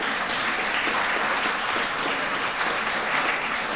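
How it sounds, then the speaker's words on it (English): An audience at a poetry slam applauds the participants, a loud, continuous, even patter of many hands clapping with no talk over it. "Please, let's give them all a round of applause."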